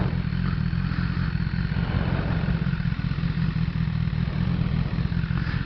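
A motorcycle engine drones steadily while being ridden, a continuous low rumble with faint mechanical clatter and wind, near and unbroken throughout.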